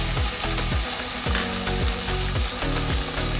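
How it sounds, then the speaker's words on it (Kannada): Garlic ginger paste, turmeric and red chili powder frying in a pan, a loud steady sizzle broken by regular rhythmic scraping strokes of a spoon stirring, close and continuous without talk. "ಗಾರ್ಲಿಕ್ ಜಿಂಜರ್ ಪೇಸ್ಟ್ನ ಹಾಕ್ತೀನಿ. ಆಮೇಲೆ ಸ್ವಲ್ಪ ಅರಿಶಿನ, ಆಮೇಲೆ ರೆಡ್ ಚಿಲ್ಲಿ ಪೌಡ್ರು"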